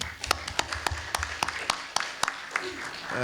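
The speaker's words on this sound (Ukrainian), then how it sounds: "давайте, давайте поаплодуємо, як мінімум, за перемогу" Scattered hand claps from a small group at a city council session in Irpin, quiet and uneven, with sharp separate claps spread across a few seconds rather than sustained applause.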